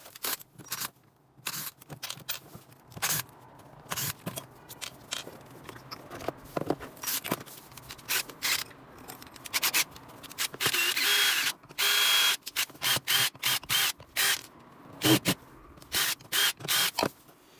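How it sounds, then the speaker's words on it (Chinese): Disassembly of a broken cordless power tool's casing during repair, with the battery removed first: irregular clicks, plastic snaps and rattles, then a stretch of rapid buzzing bursts from an electric screwdriver, close and fairly loud. "我们把电池拆掉先。 先把这个机子外壳拆开啊。"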